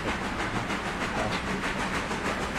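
A passenger train in the railroad video game Railroader rumbles steadily with a broad hissing roar and faint clickety-clack, loud and continuous without any talk.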